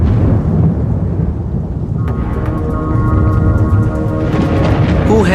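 Thunder from an electrical storm: a loud, continuous low rumble rolls throughout, and sharper crackles and tonal streaks join in the second half, all heard close with no talk.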